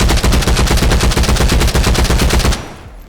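Rapid automatic gunfire from a gun in the video game Contractors Showdown: a loud, steady stream of closely spaced shots for about two and a half seconds, then an abrupt stop with a short fading tail.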